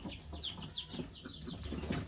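Rooster on a ranch giving a few short soft clucks, faint and close amid light background rustling, with no voices.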